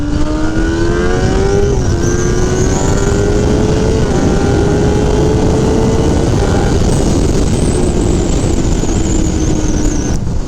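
A 2021 Kawasaki Ninja ZX10RR motorcycle accelerates hard in first gear, its loud engine whine climbing steadily in pitch over heavy wind rush, with brief dips and a slight fall near the end.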